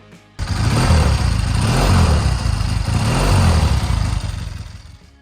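1960s Triumph Bonneville motorcycle exhaust roaring at high revs, a loud, sustained engine note that starts abruptly, pulses slightly, then fades toward the end.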